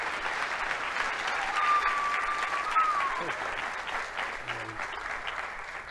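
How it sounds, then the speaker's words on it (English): An audience at the 2020 Q Christian Fellowship gathering applauds as a speaker is welcomed, with dense, steady clapping that fills the room and fades slightly toward the end. "Let's welcome him to the Great Communion with a hand clap."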